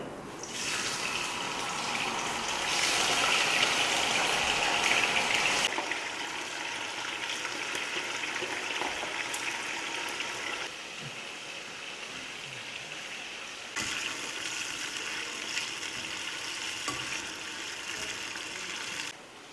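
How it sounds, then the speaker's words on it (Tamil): Seasoned chicken frying in hot oil for a spicy Indian chicken dish gives off a steady, loud sizzle that surges near the start and keeps crackling evenly throughout. "இப்போ நாங்கள் இந்த சீசன் பண்ணி வச்சுருக்கிற சிக்கனை ஆயிலில் போட்டு ஃப்ரை பண்ணி எடுக்கணும்"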